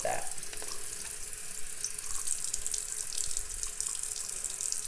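A makeup brush rinsed under running tap water, a steady close hiss and splatter of the stream into a sink that lasts throughout, with bristles being worked under the flow.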